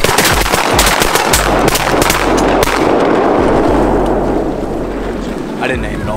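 Shotguns blast repeatedly during a duck hunt, a quick flurry of sharp loud shots in the opening seconds that thins out, with outdoor rumble and voices in the background.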